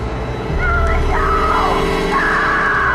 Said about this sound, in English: Alice's screams start to sound less like someone afraid of the dark and more like someone being attacked.